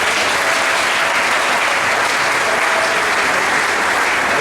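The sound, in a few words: congregation applauding for the Lord in church service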